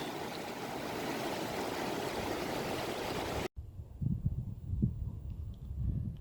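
Wild River in the Sulitjelma mountains flowing, a steady broadband rush of water for several seconds, then a cut to quieter, closer surging and gurgling with uneven swells.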